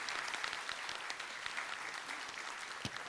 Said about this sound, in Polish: Tu brawa, drodzy brawa.